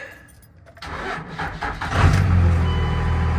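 A second-generation Cummins diesel truck engine cranks and catches, settling into a loud, rumbling idle nearby.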